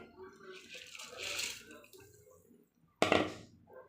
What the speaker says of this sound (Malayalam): ഇത് നമ്മുടെ തിളച്ച വെള്ളത്തിലേക്ക് ചേർക്കുവാണേ